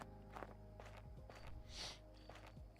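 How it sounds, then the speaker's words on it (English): Soft, evenly spaced footsteps that sound like walking on grass, from a puzzle game being built in Godot. They are quiet and rhythmic over a steady hum. "I do need to fix the footsteps."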